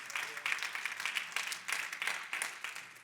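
A congregation at a Christian community church service clapping for Christ, a lively rhythmic burst of many hands in uneven pulses, fairly close and moderately loud, with no speech over it.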